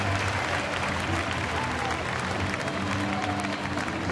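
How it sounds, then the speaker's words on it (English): A baseball crowd in Pittsburgh applauds and cheers during a Padres at Pirates game, a dense, continuous wash of clapping and crowd noise heard from a distance. "Crowd really into the ball game"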